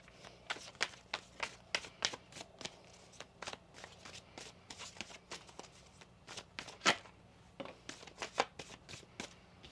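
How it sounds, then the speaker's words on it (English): Rapid riffle shuffles of playing cards, a run of crisp flicking bursts repeating across the clip, close and fairly quiet. "One more shuffle here."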